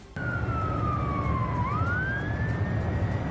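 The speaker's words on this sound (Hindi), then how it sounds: "वहां काफी देर तक सायरन की आवाजें गूंजती रहीं" A single siren wails steadily, its pitch sweeping down then rising again, loud and continuous over low traffic rumble, with no one speaking.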